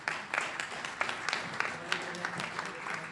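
Audience applause at a poetry prize ceremony, a steady patter of many hands clapping at moderate volume, with a few sharper individual claps rising above it.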